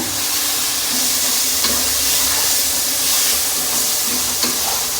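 Food frying in a pan on the stove, a loud, dense sizzle and hiss that carries on steadily and close throughout, with faint stirring clinks and no talking.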